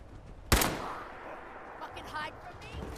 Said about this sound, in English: I'm going to shoot this guy in the head because he's a jerk